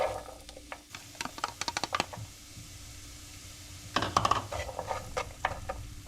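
Onions are stirred in a pan with clustered spoon clicks and scrapes over a faint, steady sizzle, close and moderately loud.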